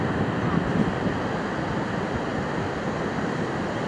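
Steady ocean surf rolls in at Praia do Ruínas beach in Peruíbe after a storm swell, a continuous broad wash of breaking waves with wind buffeting the microphone and no distinct pauses.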